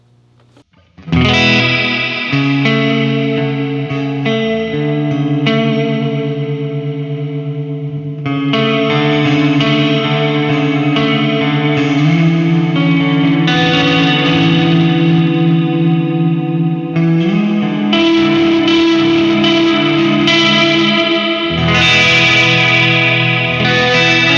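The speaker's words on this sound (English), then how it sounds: "as we increase it, we get more reverb introduced into our signal" Sustained electric guitar chords ring out loudly through a Boss RV-5 digital reverb pedal, washed in lush reverb that makes each strum swell and linger, with no talking.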